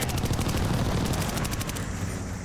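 Assault rifle firing in Call of Duty: Vanguard, an Automaton class: sustained rapid automatic bursts at a steady, loud level with no voices.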